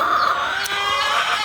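Layer hens on a poultry farm cluck and squawk continuously, several birds close by with overlapping calls and no pause, and no voices heard.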